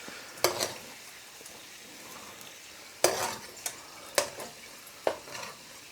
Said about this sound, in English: I'm going to fish everything out and drain off the oil into this little saucepan here.